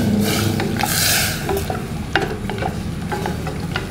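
Water poured into a hot pot where luffa broth has been browning, setting off a loud, steady hiss and sizzle close by, with scattered light clinks as it is stirred.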